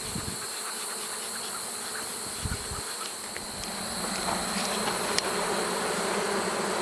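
Honey bees drone in a dense, continuous buzz while being relocated into hives in September, close and steady, with a few light knocks near the start.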